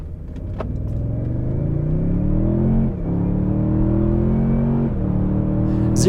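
A 2024 Toyota Tundra hybrid pickup accelerates hard from a standstill, its engine note climbing steadily with brief dips at two gear shifts, loud and continuous throughout with no talking.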